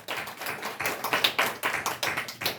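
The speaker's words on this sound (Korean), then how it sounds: "박수로 하나님께 영광을 주시옵소서" A church congregation claps during a Sunday worship service, a steady, rhythmic run of close, fairly loud hand claps with no voices over it.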